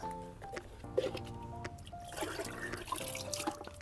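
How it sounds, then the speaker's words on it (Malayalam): Diluted slurry is poured onto loosened soil at a plant's base, a close, continuous trickle and splash of liquid lasting a few seconds. "ഇനി നമുക്ക് ഇളക്കിയ മണ്ണിലോട്ട് നമ്മുടെ സ്ലറി ഒഴിച്ചു കൊടുക്കാം"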